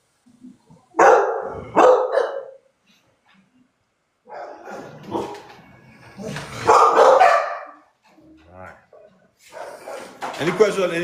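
Rescue pups bark and yip in several loud, close bursts with pauses between, while a person talks over them at times.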